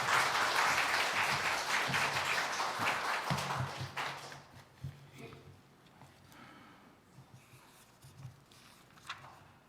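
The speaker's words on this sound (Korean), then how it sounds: "우리 박수하겠습니다." Church congregation applauding a retired senior pastor as he comes forward during a Sunday service, loud and dense for about four seconds, then trailing off into scattered claps, shuffling and faint low murmurs.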